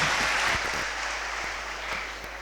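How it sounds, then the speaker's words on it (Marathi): An audience at a district-level science conference claps for a scientist, a dense burst of applause starting strong and gradually thinning out, with a low hum underneath. "एकदा जोरदार टाळ्या झाल्या पाहिजेत या भारताच्या"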